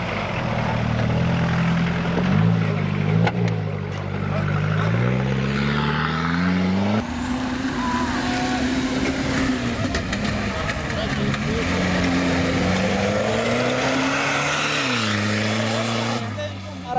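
Mitsubishi Pajero rally car running off-road in a stage of an A2-class rally, its engine droning steadily and rising and falling through gear changes, loud and continuous throughout, with voices talking over it.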